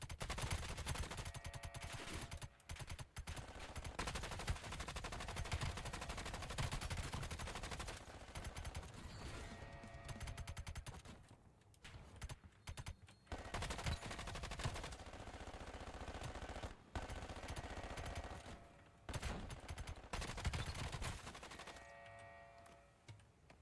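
Rapid, sustained automatic fire from a sentry turret in a video game rattles on loudly in long bursts with brief gaps, dense and continuous, with almost no talk over it.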